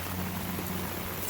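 Heavy rain pours down with a dense, constant hiss of drops beating on surfaces, loud and unbroken through the short moment, with a low steady hum beneath.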